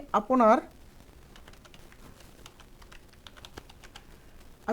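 Quick light taps on a computer keyboard go on continuously and fairly softly, with a short burst of speech at the start and another voice cutting in at the end.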